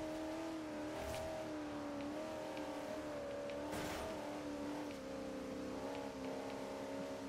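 In-game car engine in Forza Horizon 2 droning steadily on a wet track, pitch shifting slightly as it revs, with a brief louder burst midway; no talking.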